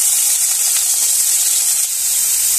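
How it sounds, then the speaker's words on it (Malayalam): Shallots drop into hot coconut oil and fry with a loud, steady, bright sizzling hiss that stays close and constant, with no talking. "ഓയിൽ നന്നായി ചൂടായിട്ടുണ്ട്. ഇതിലേക്ക് നമ്മൾ എടുത്തു വെച്ചിരിക്കുന്ന ചെറിയ ഉള്ളി നമുക്ക് ഇട്ട് കൊടുക്കാം."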